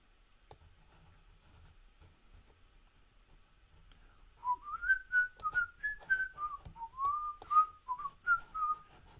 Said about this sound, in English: Little Mermaid whistling